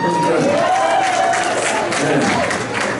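A comedy club audience at the Toledo Funny Bone claps and cheers loudly and continuously, with a whoop rising over the dense, close crowd noise.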